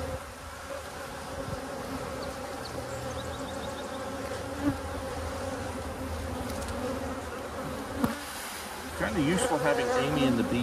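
Honey bees swarm around a big hive in a bee yard, a dense and constant buzz with single bees droning past close by, while people talk over it.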